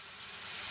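Steady, even hiss of a sprayer misting weed killer outside a house in House Flipper, rising slightly and running unbroken for under a second with nothing else audible.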